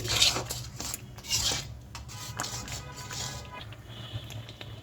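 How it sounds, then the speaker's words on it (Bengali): Ginger-garlic paste, coriander, chilli and ready-mixed roast spice being stirred and sautéed in a pot, with close clinks and scrapes of a spoon against metal over a low sizzle, no talk. "মশলাটাকে সুন্দরভাবে কষিয়ে নিচ্ছি"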